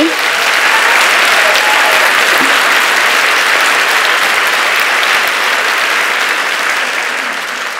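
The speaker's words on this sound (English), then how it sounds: "I'd like to give another round of applause to that incredible Michaela de Prince, age 20." An audience at a women's summit in London gives a long round of loud applause, sustained for several seconds before it begins to taper off at the end.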